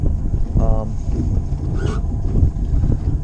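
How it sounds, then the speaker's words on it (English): Strong wind buffets the microphone with a low, gusty rumble over a droning engine on a 1654 Grizzly Tracker jon boat, and a voice briefly sounds near the start. "it's really windy out here"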